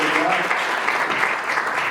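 Brief burst of audience applause at a local government conference, honoring a founding director, dense clapping with some voices mixed in.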